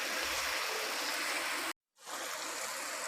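Liquid pours steadily into a pot for desi chicken shorba with black pepper, a close, continuous rushing gush that briefly cuts out before resuming.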